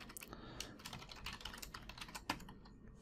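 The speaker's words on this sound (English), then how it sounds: "I just can't talk and type at the same time" Quick typing on a computer keyboard, with dense irregular clicks and a few louder key strikes, close and clear, no talking.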